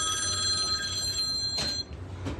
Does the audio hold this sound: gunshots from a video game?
no